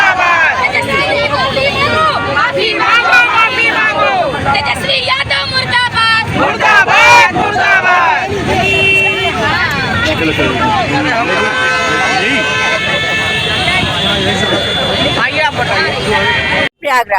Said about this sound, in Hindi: हम लोग आज राहुल गांधी जी के विरोध में प्रदर्शन कर रहे हैं।